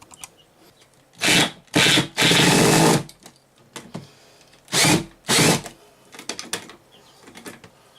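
Power drill driving screws to fasten a chicken brooder base to a workbench, close, loud whirring bursts of a second or two, some back to back, separated by quiet handling and clicks.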